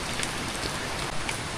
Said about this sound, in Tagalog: Pahintuin lang natin yung ulan.